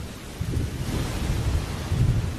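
Wet-season downpour with rolling thunder, a constant hiss of heavy rain over deep, swelling low rumbles that rise and fall across the stretch, close and loud, with no one speaking.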